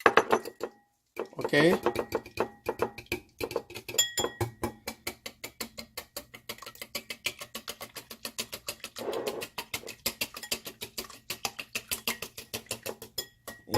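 Japanese folded omelette mixture being stirred in a pot on a bush camping stove, with a fast, steady run of close metallic scraping clicks as the utensil knocks the pot; someone speaks briefly near the start.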